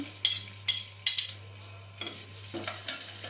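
Chopped onion and garlic sizzle in hot white oil while a utensil scrapes and stirs the pan in quick repeated strokes, close up with no talking.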